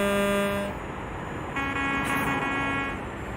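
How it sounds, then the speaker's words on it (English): A taxi horn in the video game Euro Truck Simulator 2 honks in two sustained, steady blasts, the first short and the second longer, over a low engine drone. "Sounds like a taxi horn."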